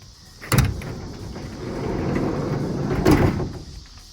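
A Ford Econoline van's side door is opened with a loud clunk, followed by a long rolling slide and another heavy clunk as it latches into place.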